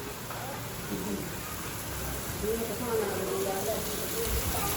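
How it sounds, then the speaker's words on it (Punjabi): Steady rain patters on a hard surface, a constant wash of fine drops that keeps on evenly, and no one speaks. "ਮੀਂਹ ਪੈ ਰਿਹਾ ਤੇ ਚਲੋ ਚਲੀਏ ਕੋਠੇ ਤੇ"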